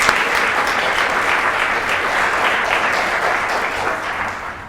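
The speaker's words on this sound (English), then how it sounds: "that deserves a round of applause" Sustained audience applause on a late-night talk show, a dense steady wash of many hands clapping at an even level throughout, no voices on top.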